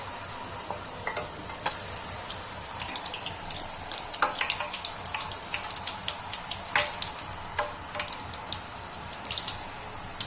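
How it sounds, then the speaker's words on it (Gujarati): Large farsi jira puris deep-frying one at a time in hot oil over a medium gas flame give a steady close sizzle with scattered crackles and pops throughout, with no talking. "હવે તેલ પણ ગરમ થઈ ગયું છે સાથે, તો આપણે સાથે પૂરી તળતા પણ જાશું."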